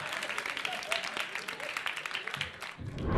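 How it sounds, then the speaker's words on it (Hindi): Audience applause at a political poetry event, a dense patter of clapping from a crowd that runs steadily for a few seconds at moderate volume. "ताली बजाओ।"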